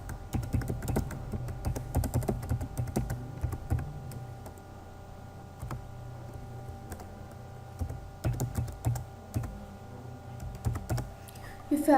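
An email address being typed on a computer keyboard, with rapid, uneven clusters of close key clicks and short pauses over a low steady hum.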